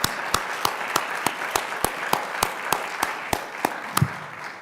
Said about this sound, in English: could we give them a round of applause for the great work that they've done for this event?